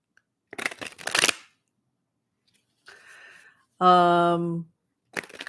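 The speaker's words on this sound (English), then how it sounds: "That's the sound of the cards shuffling." Short bursts of tarot card shuffling riffle and clatter up close, separated by quiet gaps, with a brief voiced sound in between.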